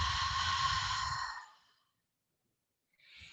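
A long, audible breath released out through the mouth during a guided anti-stress relaxation exercise, a soft breathy exhale lasting about a second and a half before fading to silence, followed by a brief faint rustle.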